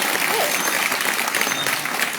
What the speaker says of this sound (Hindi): उनके लिए जोरदार तालियां बजनी चाहिए